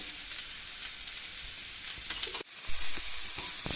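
Chopped onions drop into hot oil and sizzle steadily with a bright, dense hiss. The hiss cuts out briefly partway through, then resumes just as strong.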